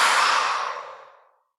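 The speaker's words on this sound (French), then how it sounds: "Et puis on va souffler fort en relâchant et en ouvrant grand les mains." A strong, forceful breath out during a sophrology relaxation exercise as the hands open and release, a single long airy exhale that starts loud and fades away to silence.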